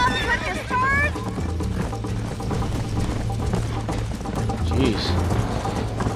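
A horse in the video game Red Dead Redemption neighs near the start, with rhythmic hoofbeats and mechanical game sounds underneath, all mixed under dense background noise and music.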